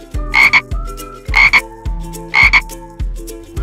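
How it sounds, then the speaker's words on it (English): A frog croaks in short bursts, three loud double-pulsed croaks at a steady pace with quieter knocks between them, close and clear with no other sound. "A frog says ribbit,"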